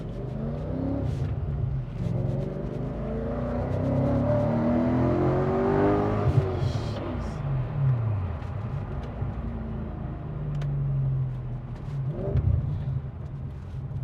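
A supercharged Audi RS4 B7 V8 engine idles and revs with a deep, throaty roar that rises and falls, loud and close, with no talking.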